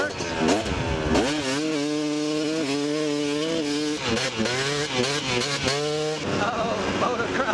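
KTM 250 SX two-stroke motocross bike ridden close by, its loud buzzing engine rising and falling in pitch through repeated throttle blips and revs, with brief drops between pulls.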